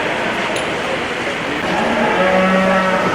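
Beef cattle in a barn at the Florida State Fair in Tampa low with loud, drawn-out moos close by, over a constant murmur of the crowd and the barn.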